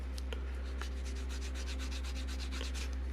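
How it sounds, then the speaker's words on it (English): A piece of wood rubbed back and forth along the edges of a leather sling, giving a steady series of soft scraping strokes over a constant low hum. "You can take a piece of wood and rub it like this to smooth the edges."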